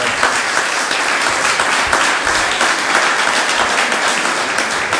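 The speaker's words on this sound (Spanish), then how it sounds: "Yo pediré un aplauso." An audience applauds continuously, dense clapping from many hands filling the room at a steady, lively level.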